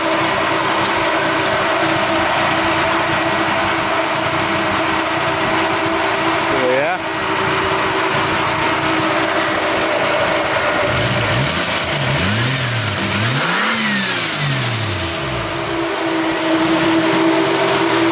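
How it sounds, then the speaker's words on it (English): A Toyota Supra engine idles in neutral, a steady loud hum with a few brief rising revs, rattles and loud cooling fans running throughout. "It's neutral. Idles."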